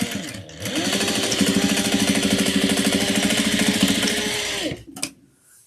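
A sewing machine stitching a grid bowl cozy, running in one steady, fast-rhythmed whirring burst of about four seconds before slowing and stopping, with a click at the end.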